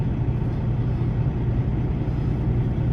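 A truck engine idles right nearby with a steady, low rumbling drone that holds constant throughout, no voices over it.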